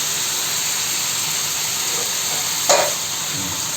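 Tomatoes cook in a pan for curry leaf chutney, giving a steady, even hiss and sizzle throughout with one brief louder crackle near the end and no talking.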